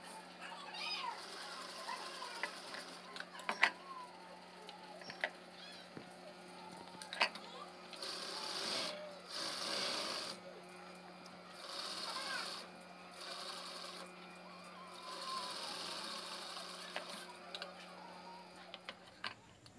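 Sewing machine stitching a churidar dress, its rapid mechanical whir running in bursts of steady stitching at close range, with ticking clicks and a faint voice in the background between runs.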